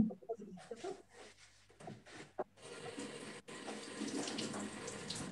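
Water from a kitchen sink tap starts after some scattered clattering and then runs steadily in a continuous splashing rush, fairly close but moderately quiet.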